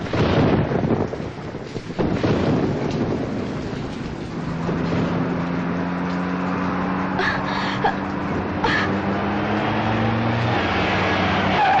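Rain pours down on a stormy night, a continuous windy roar with low rumbles and a few sharp gusts or bursts, steady throughout with no voices.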